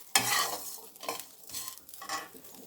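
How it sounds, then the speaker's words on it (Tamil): Unpeeled garlic cloves and tamarind dry-roasting in an oiled pan for coconut podi, heard as several distinct bursts of stirring and scraping with a light sizzle, close by and separated by brief quieter gaps. "இது தோலோடவே பூண்டு சேர்த்துருக்கேங்க நல்லாயிருக்கும் தோலோடையே சேர்த்து வறுத்துக்கோங்க"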